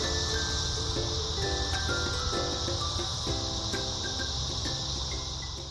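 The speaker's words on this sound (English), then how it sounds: "The cicadas are a constant most days." Cicadas in eucalyptus forest by a koala gum tree, a dense continuous high buzzing drone that holds steady at moderate level, with faint chirps layered beneath.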